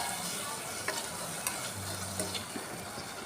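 A masala of tomato, coriander and mint sizzles steadily in a pan while a spoon stirs through it, giving soft scraping strokes and light ticks over the constant frying hiss, close and alone.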